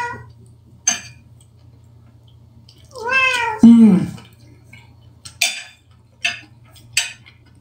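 A house cat meows once, a drawn-out wavering cry up close, amid a few sharp clinks of dishes and cutlery and a low steady hum in the background.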